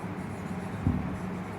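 A marker or chalk scratches briefly across a board, a short faint stroke heard alone under quiet room tone.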